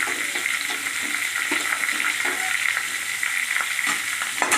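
Chopped onions added to hot oil with whole dried red chillies for sweet-and-sour chicken, crackling in a steady loud sizzle with light stirring scrapes.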